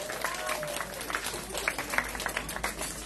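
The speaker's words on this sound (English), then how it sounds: "Let's clap our hands as we welcome them" Audience at a Hindu mandir clapping to welcome a Tassa drum group, a lively patter of scattered hands with crowd murmur and some talk mixed in.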